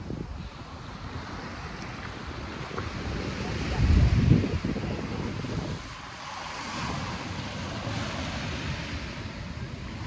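Sea waves wash onto a beach at Virac, Catanduanes, a steady broad rush with wind buffeting the microphone and a louder surge of surf about four seconds in, with no talk.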